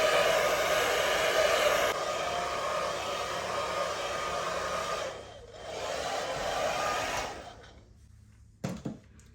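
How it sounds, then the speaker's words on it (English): A worn-out beauty-shop hair blow dryer roars with a loud, steady whooshing hum, dipping briefly midway, then cutting off near the end, followed by a couple of faint clicks. "This blow dryer is on its last leg."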